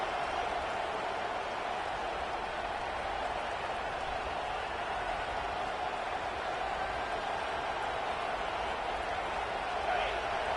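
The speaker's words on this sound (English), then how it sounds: "The roar of the crowd trying to fuel this defense to keep them pinned in their own end" A stadium crowd in the NCAA Football video game roars as a continuous, even wash of noise that holds steady throughout, with no clear breaks or peaks.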